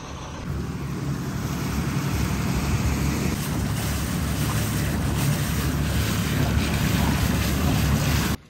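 A Riviera Sportsfish boat engine runs after a throttle repair, giving a loud, steady low rumble with wind and water wash that holds evenly to the end.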